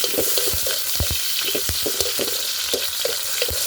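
Hot cooking oil crackles and sputters in a pan for chicken stir-fry, a constant bright sizzle broken by frequent sharp pops and spatters close to the pan.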